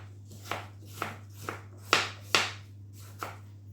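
Apples being chopped into chunks with a knife on a board, seven distinct crisp cuts at an uneven, unhurried pace over a low steady hum, close and fairly clear.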